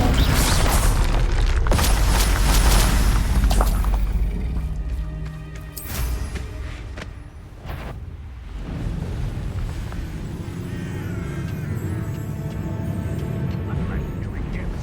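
Spell explosions from Confringo and Bombarda in the video game Hogwarts Legacy, with heavy booming blasts and crashes rolling across the stretch, loud and layered with game music and effects, and a voice speaking at points.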